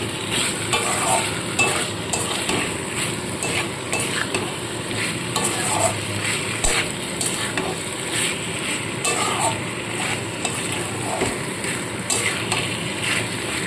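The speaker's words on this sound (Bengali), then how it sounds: "এবার এর মধ্যে আমি ভেজে রাখা আলু আর পেঁয়াজ কলিগুলো আগে দিয়ে দেবো দিয়ে মশলার সাথে খুব ভালো করে মাখিয়ে নেবো আর একটু কষিয়ে নিতে হবে" Fried potatoes and onion stalks sautéed with spices in a pan, with a continuous sizzle and repeated rhythmic scraping of a spatula stirring close by, without talk.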